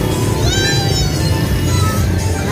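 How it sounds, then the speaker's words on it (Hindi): A Persian cat meows with drawn-out, wavering cries at a busy dog, cat and bird market in Saddar, Karachi, heard close over loud, constant crowd and market bustle. "एक और देखें बिल्ली। भाई, कौन सी है ये? पर्शियन है।"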